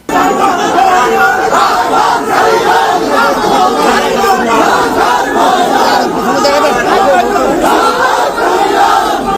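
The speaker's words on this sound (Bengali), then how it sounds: "স্লোগান দেওয়া হইল জয় বাংলা" Loud, dense crowd shouting a political slogan, Joy Bangla, in unison at a court as Awami League ministers arrive, a continuous roar of many voices with no pauses.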